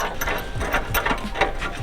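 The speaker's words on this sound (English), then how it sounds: "Now let's get these bolted back up" A hand ratchet tightens bolts on drag-car-style bars, rapid repeated clicking strokes close up in a steady back-and-forth rhythm with no talking.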